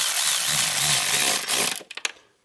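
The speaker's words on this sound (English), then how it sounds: "now I'm gonna bring my power tool to tighten all of them" A power tool whirs hard for about a second and a half while tightening valve cover bolts on a 2007 Chrysler Sebring, then gives a few short bursts before stopping, loud and close.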